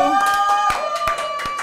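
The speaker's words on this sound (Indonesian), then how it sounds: "Coba tepuk tangan dulu." A studio audience at an Indonesian talk show claps in a handful of sharp, scattered beats beneath steady tonal music and talk.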